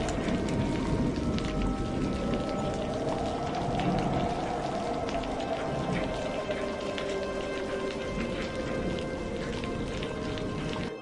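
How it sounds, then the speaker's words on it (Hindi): Steady cold rain pouring down in strong winds, a dense continuous hiss of drops on surfaces with a low rumbling undertone, loud and unbroken from start to finish. "ठंडी बारिश और तेज हवाओं के बीच"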